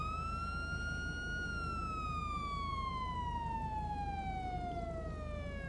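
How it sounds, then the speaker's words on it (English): Police car siren in the GTA 5 video game, a single steady wail that slowly glides downward in pitch over a constant low road rumble, loud and continuous, with no voices. "just so there's no sirens wailing while we're at a traffic stop"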